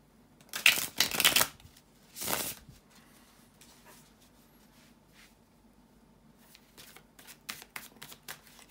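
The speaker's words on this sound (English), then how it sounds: "bear with me a second, guys, to shuffle the cards" Tarot cards shuffled by hand in close, crisp rustling bursts, two quick riffles followed by quieter sporadic card handling and soft taps.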